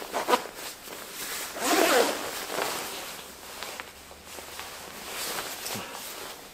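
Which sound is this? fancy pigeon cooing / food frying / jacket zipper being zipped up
jacket zipper being zipped up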